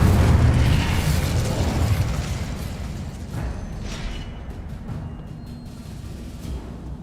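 A Confringo fire spell explodes in the Hogwarts Legacy video game, a loud rumbling boom that slowly decays into crackling debris and lingering noise over several seconds, with no talk.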